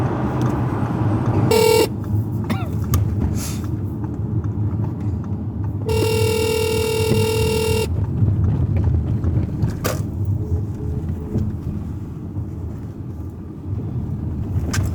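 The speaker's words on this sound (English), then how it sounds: "let me call my client on my phone because my work phone is dizzy" A phone call ringing through a car's audio system, two electronic ring bursts, one short and one about two seconds long, over the low hum of the car interior, with no talking.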